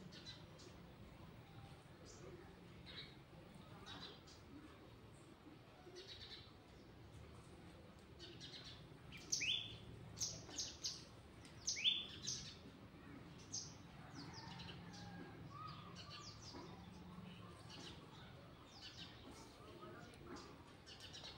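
Sparrows chirp in faint, scattered short tweets, a few sharper calls in the middle, against quiet background noise.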